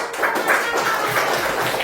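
A class of students claps hands in steady, overlapping slaps, a short burst of moderate loudness filling the room.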